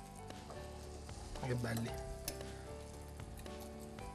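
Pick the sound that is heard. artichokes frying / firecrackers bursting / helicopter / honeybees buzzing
artichokes frying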